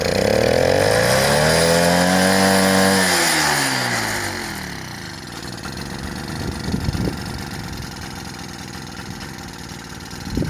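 A Gutbrod engine fitted with a Bing carburetor and new intake runs on test, rising in pitch and then dropping back to a rough, uneven idle close by.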